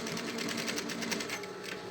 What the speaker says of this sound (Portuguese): E vamos rebater a costura.